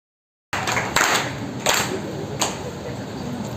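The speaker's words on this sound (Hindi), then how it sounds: "आप अपने लिए एक बार शानदार तालियां बजा सकते हो" Loud audience clapping at a business network meeting, a dense burst of many hands with a few sharper claps standing out.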